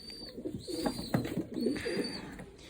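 Pigeons coo in low, soft, repeated throaty calls close by, with a faint high tone in the background.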